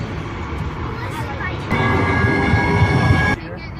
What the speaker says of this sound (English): We've got the train. It's called TriMet.